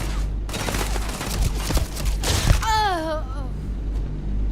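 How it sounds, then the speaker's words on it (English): Gunfire from the video game Starfield, a dense, noisy fusillade of rapid shots mixed with a voice that groans or exclaims partway through, all over a steady low rumble. "Oh, who's shooting?"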